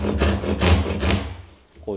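A Japanese hand saw cuts the shoulder of a wooden tenon for a joined stool, giving three rhythmic rasping strokes close by before the sawing stops.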